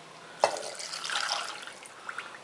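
Two cups of water are poured into a pot for a honey syrup, a short, close splash followed by a soft trickling pour that fades out with a few small drips.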